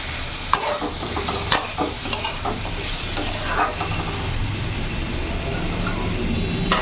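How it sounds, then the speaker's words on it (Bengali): Potatoes and tomato frying together in a pan for silver carp curry, a continuous close sizzle broken by several sharp scraping clicks as the pieces are stirred. "একটু আলুর সাথে ভালো করে কষিয়ে নেব।"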